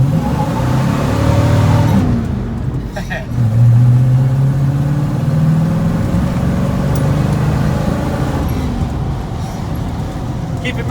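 A Chevy square body farm truck with a 454 big block V8 revs at about half throttle, a loud, close engine roar that rises and falls in swells, with a deep rumble carrying steadily between pulls.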